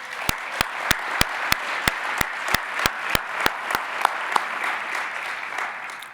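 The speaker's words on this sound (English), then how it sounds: "So let's all give them a round of applause." Audience at a plenary meeting breaks into applause, a broad clapping wash punctuated by a series of sharp, evenly spaced loud claps that fade out partway through, with no one speaking.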